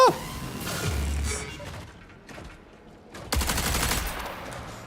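Rapid gunfire at bots in the video game Marathon, two dense bursts of shots separated by a quieter pause, loud and close.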